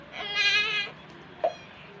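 A single young goat bleat, a wavering nasal cry lasting under a second, followed by a faint brief squeak, fairly close and otherwise quiet.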